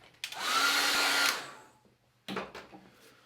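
A hair dryer blows over a freshly painted watercolour moon in a steady whoosh of about a second, cuts off, then starts again briefly, close and moderately loud.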